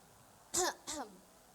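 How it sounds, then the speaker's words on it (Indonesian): A woman gives two quick, close coughs, the second slightly softer, a brief throaty pair with a short gap between them in a quiet room. "ibu lagi batuk"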